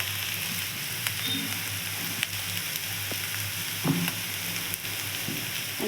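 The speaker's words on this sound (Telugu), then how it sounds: "కాకరకాయ అనేది బాగా ఉడికిపోయింది, ఆనియన్ కూడా వేగిపోయింది" Bitter gourd and onion frying in a pan, a steady close rain-like sizzle with occasional soft stirring taps and scrapes, no speech.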